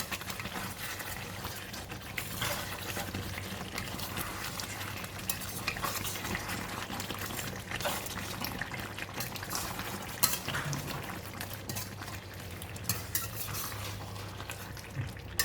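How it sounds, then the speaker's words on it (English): Chicken rendang cooking down in a pan with no water added, stirred with a utensil: a steady sizzle and frying hiss with occasional scraping and clinks of metal against the pan, heard alone without talk. "From time to time I came back and give it a stir"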